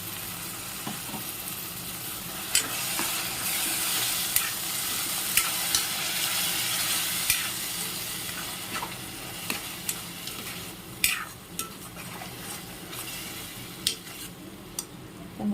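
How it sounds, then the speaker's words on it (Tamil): Tomato puree sautéing in a pan for a kidney bean gravy, a continuous sizzle broken by a dozen sharp spatters and spoon scrapes at irregular intervals, close by, no voices. "இந்த தக்காளியோட பச்சை ஸ்மெல் போகிற அளவுக்கு நல்லா வதக்கிடணும்"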